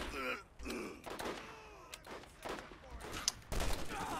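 Scattered bursts of gunfire aimed at a bruiser in Borderlands 1, coming as short separate volleys and thuds at moderate loudness, with players' voices and grunts mixed in between.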